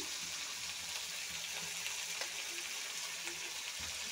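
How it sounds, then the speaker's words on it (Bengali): Green peas fry in a pan for a chana dal dish, giving a steady, even sizzle of hot oil with faint occasional clicks, continuous throughout and without talk. "মটরশুঁটিটা একটু ভেজে নিচ্ছি"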